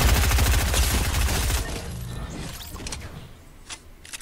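A dense, rapid burst of automatic gunfire in Fortnite at Salty Springs fires loudly for about a second and a half, then trails into scattered distant shots and mechanical clicks.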